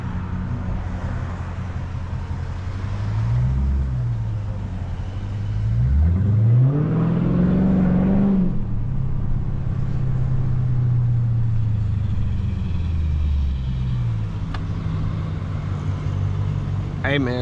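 A Dodge Scat Pack's engine idles with a deep rumble, then revs up loudly for a couple of seconds before settling back to a steady low idle on a city street in Chicago, with traffic noise around.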